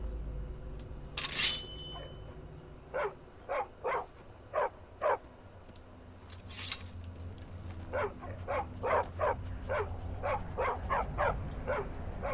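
A dog in the Skyrim video game barking in short, evenly spaced yips over a low ambient hum, mid-distance and moderately loud, with two brief noisy bursts near the start.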